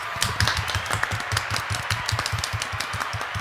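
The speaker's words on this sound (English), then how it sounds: "Golf clap." A handful of people give a sparse, polite golf clap on a podcast set welcoming a guest, Ice-T, with soft irregular pats repeating steadily at moderate loudness, no talking over it.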